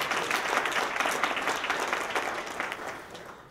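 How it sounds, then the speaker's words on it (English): An audience at a live talk and brain-hacking demonstration applauds a female volunteer, a steady dense round of clapping that holds evenly and tapers slightly toward the end. "Give this lady a nice round of applause"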